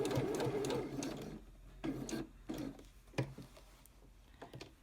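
A sewing machine stitches a zipper pocket seam, running in a steady burst, pausing, then resuming in short bursts close by.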